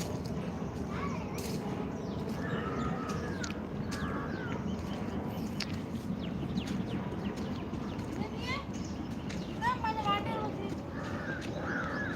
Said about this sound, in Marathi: कावळ्यांचे पक्ष्यांचे हे आवाज आहेत